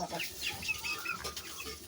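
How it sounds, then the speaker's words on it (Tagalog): Soft, scattered clucks from a sick chicken or two, fairly close, with light rustling and faint background noise. "yung manok may sakit yung manok"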